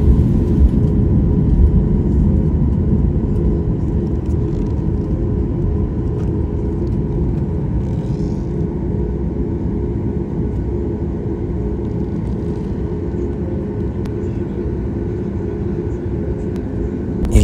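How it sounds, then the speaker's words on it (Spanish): A small light aircraft takes off from an airfield runway, giving a loud, steady low engine rumble that holds evenly throughout with no voices. "y esta avioneta también despega"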